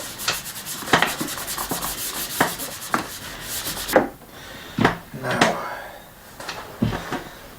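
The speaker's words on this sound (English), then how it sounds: "Let's just have a little go at wiping this clean. You can see the muck coming off." Cloth rubbing over the surface of a leather briefcase to wipe off dirt, with repeated close scuffing strokes and a few sharper knocks.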